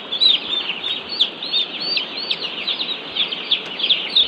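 Broiler chicks in a pen chirp constantly, a dense flock of high, overlapping peeps, loud and close, with a low background hum beneath them.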